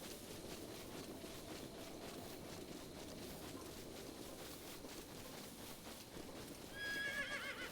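In the video game The Legend of Zelda: Breath of the Wild, a horse whinnies and hooves pound in a quick gallop over a constant noisy background, with no talking.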